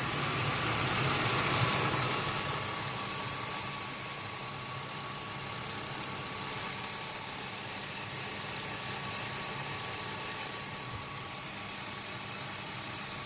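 A BMW E46 engine idles steadily after its cooling system has been bled, a quiet, even hum with a faint constant whine and no voices.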